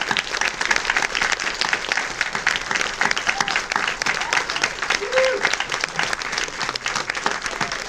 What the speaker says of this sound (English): Let's have a massive round of applause.